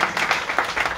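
Congregation clapping in thanks during an outdoor sermon held on a road by a Ludhiana prayer house: a short burst of dense, rhythmic hand claps at steady volume.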